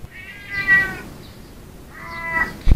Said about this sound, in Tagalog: sumasabat na pusa ni talaga